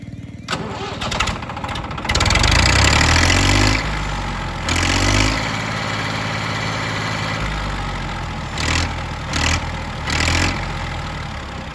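A tractor engine cranks and catches, revving in loud bursts before settling into a steady rumbling idle, with short pulses of throttle toward the end.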